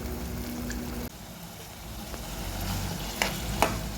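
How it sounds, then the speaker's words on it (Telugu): Onion and green chilli fry in hot oil in a pan, a continuous close sizzle with a few sharp scraping stirs and clicks toward the end. "ఉల్లిపాయ పచ్చిమిర్చి వేసుకుంటున్నాను"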